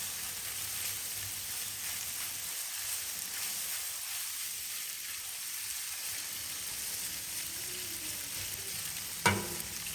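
Pasta sizzling steadily on a Blackstone griddle, a dense continuous hiss close by with a single sharp scrape near the end and no talking.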